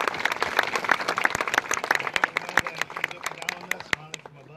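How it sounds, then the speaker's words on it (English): Applause from a crowd at a park dedication ceremony, a dense and steady patter of many hands clapping nearby that gradually thins toward the end, with voices faintly under it. "And if you could just give one more round of applause to Benito."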